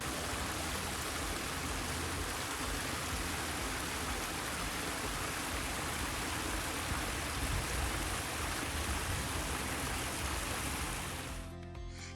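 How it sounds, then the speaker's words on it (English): Running water from a water feature in a cremation garden gives a steady, even rush and splash that continues unbroken, with no voices. "I love it in the summertime when the water feature is running."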